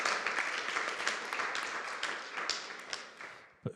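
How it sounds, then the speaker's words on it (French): Audience applause at a talk on a fair ecological transition, dense clapping from a seated room filling the whole stretch before it breaks off near the end. "on peut applaudir pour qu'elle ne soit pas la seule pas applaudie, Stéphanie."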